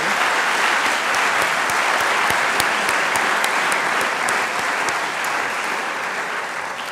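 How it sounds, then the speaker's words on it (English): Sustained applause from a large audience, steady and dense throughout with no voices standing out. "So if you could give them a round of applause"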